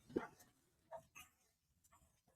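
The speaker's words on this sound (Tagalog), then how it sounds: "Sandali mga tol, pasensya na kayo At maingay ang mga aso." Dogs bark a few times at a distance, faint and scattered in short separate yips over a quiet indoor background.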